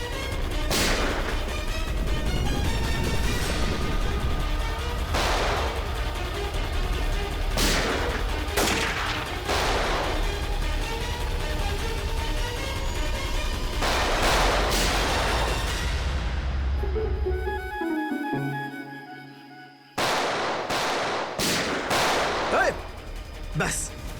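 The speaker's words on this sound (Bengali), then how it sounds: "অনেক চালিয়েছিস গুলি" Repeated gunshots crack through a shootout in a forest, sharp loud bursts spaced irregularly over a constant rumble, with a brief quiet gap before more shots ring out.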